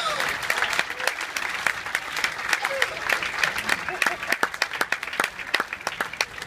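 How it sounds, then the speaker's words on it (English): Hypnosis show audience breaking into a big round of applause, dense clapping from a sizeable crowd with a few louder nearby claps, steady throughout. "Let's give them a big round of applause."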